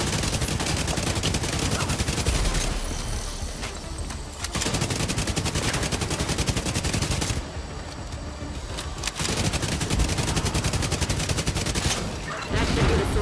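Bursts of rapid automatic gunfire in The Division 2, dense crackling volleys broken by short pauses, loud and close with a few brief gaps between fusillades.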